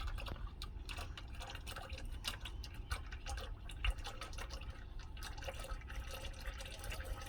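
Fluid dripping and trickling steadily from a 2013 Honda Accord's CVT transmission during a fluid and filter change, a close, quiet patter of drops running on without talk.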